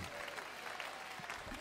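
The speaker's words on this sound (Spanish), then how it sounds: "Levantamos el aplauso, señoras, señores." An audience at a live dance show applauds in a dense, continuous wash of clapping, fairly distant and steady throughout.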